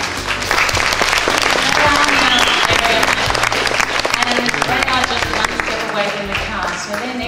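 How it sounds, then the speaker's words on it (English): Audience at a business presentation applauding two honoured women, steady dense clapping from a crowd that stays loud throughout, with some voices and cheers mixed into the applause. "And everyone, please give them a big clap."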